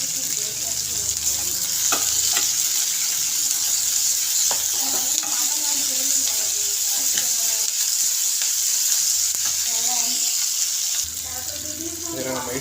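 Onions sautéing in a pan with salt, a loud steady sizzle close by, with occasional stirring scrapes and soft clicks, continuous until it drops slightly near the end.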